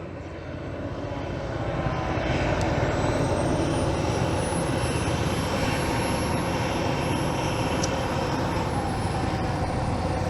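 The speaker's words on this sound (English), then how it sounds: "Aero Panda has provided some really nice jets for them to perform with." RC model jet aircraft flying a demo at the Joe Nall 2024 air show, a steady loud turbine roar with a high whine rising as it passes, sustained throughout at fairly close range.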